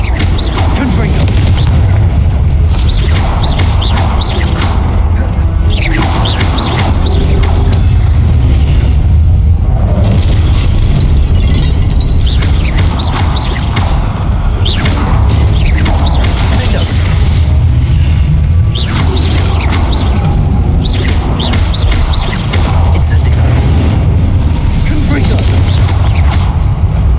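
Confringo blasting spell firing repeatedly in Hogwarts Legacy, a string of loud booming explosions with bursts and pops layered over a constant roar of combat effects and game sound, with voices mixed in.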